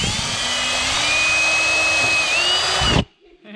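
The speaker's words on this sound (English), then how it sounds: "we're just gonna drill this one too" A power drill runs loud and steady for about three seconds at a ranch during auto repair work, its whine shifting slightly in pitch before cutting off abruptly.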